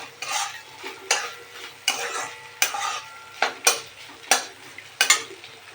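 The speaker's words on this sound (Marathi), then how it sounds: "आता वरण फोडणी टाकून घेते" A utensil stirs and scrapes around a pan in seven steady strokes, with a faint sizzle of hot oil underneath as a tempering for dal is made.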